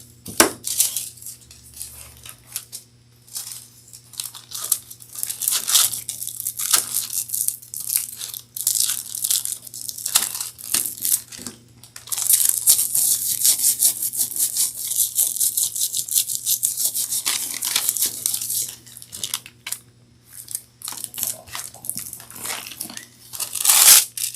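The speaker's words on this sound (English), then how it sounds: "let's get some more foil cut up" Aluminium foil cut up and crinkled for decorating cowboy boots and purses, close crisp rustling, crunching and snipping sounds in irregular bursts throughout, with no talk.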